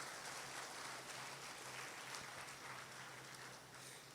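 Audience applause at a New Year special pattimandram debate, a continuous wash of clapping that stays even and full throughout without dying down.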